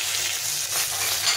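Cumin, bay leaf and dried red chilli are tempered in hot hilsa fish oil, giving a steady, loud, close hissing sizzle with no pauses and no voices.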